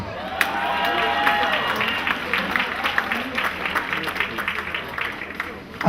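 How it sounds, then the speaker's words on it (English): Applause and crowd noise at an African family induction ceremony in Los Angeles, with a voice talking over the clapping, which tapers off toward the end. "please give me a round of applause"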